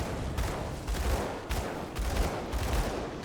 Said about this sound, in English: I think we're fine to just keep shooting him.